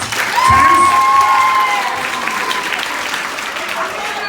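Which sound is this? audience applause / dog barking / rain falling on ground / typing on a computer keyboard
audience applause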